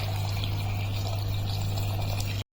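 Water pours steadily into a pressure cooker holding chopped tomatoes, a continuous close splashing rush with a low hum beneath, ending abruptly.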